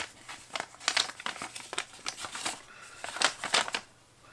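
A piece of paper being handled, crinkling and rustling in quick irregular bursts close up, with no talk over it.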